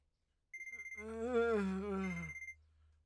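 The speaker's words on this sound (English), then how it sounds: "My phone continues its incessant noise." A phone alarm rings in the morning, a steady repeating electronic tone pulsing for about two seconds and then stopping, close and clear with nothing else heard.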